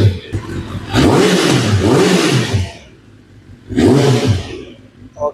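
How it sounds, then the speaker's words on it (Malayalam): A used motorcycle at a superbike showroom in Kochi is revved twice, each rev rising sharply and then falling away, loud and close, with a short pause between the two bursts. "അപ്പൊ ഞാൻ പയ്യെ ഒന്ന് വണ്ടി ഒന്ന് ബൂസ്റ്റ് ചെയ്യാൻ പോവാണ്"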